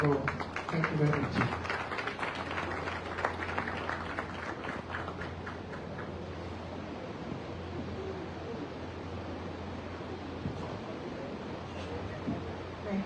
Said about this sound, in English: A round of applause again to our sponsors and to the women for coming up with this wonderful initiative.